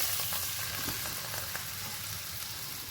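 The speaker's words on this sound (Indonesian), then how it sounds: "Kita tumis dulu bumbu kuningnya" Yellow spice paste for chicken tongseng sizzles in a small amount of oil that is not very hot, giving a soft, continuous frying crackle close by. No one speaks.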